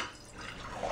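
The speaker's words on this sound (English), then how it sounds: "Magic, it pours into the glass." Short trickle of brewed loose-leaf tea draining from a steeper into a glass, a soft steady liquid pour with a slight rise near the end.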